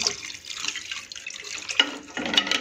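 Water is poured into a pan of vegetables for Manchow soup, a close splashing and trickling in uneven bursts, with a fuller gush toward the end.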